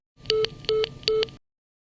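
A telephone line plays a three-tone rising beep sequence for an invalid or unreachable number, three clean electronic tones, close and clear, with no voice.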